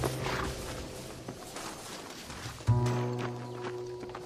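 Horses walk with a steady clip-clop of hooves in the Red Dead Redemption video game, moderately loud under sustained musical tones, with a sharper thump partway through.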